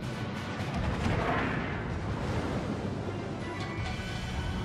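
Naval guns firing HE shells in World of Warships, heard as a dense, continuous low rumble with a broad blast swell early on, more like a sustained roar than distinct separate shots.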